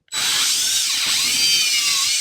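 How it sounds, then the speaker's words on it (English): A power drill bores into the plastic housing of a Petzl NEOX headlamp, a steady high whine lasting about two seconds with a slight dip in pitch midway, close and loud, with no talking. "So I will continue to drill"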